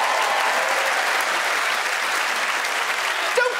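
Studio audience applause at an awards-show comedy monologue, a dense sustained roar of clapping holding steady and loud throughout, with a brief voice at the very end.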